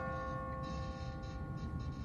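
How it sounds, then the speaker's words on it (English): Church bell ringing from a bell tower in The Walking Dead video game, a sustained resonant tone with lingering hum, steady and moderately distant, alone without talk. "What kind of church bell goes off at 20 past the hour?"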